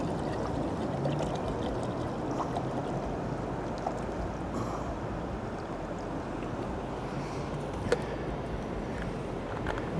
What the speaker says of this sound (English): first we're going to put some water in our jet boil